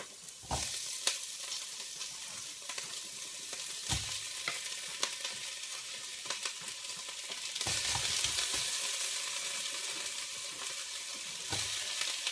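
Potatoes tumble into a pot of sweetcorn chowder base and are stirred, giving a steady sizzle with a few sharp clattering drops and scrapes, loud and close, with no talking.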